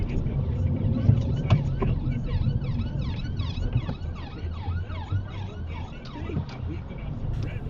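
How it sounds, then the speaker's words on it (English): An ambulance on an emergency call wails with a repeating rising-and-falling siren, moderately near and steady over road and wind noise, heard from a passing car. "Just an ambulance responding to an emergency call in this clip"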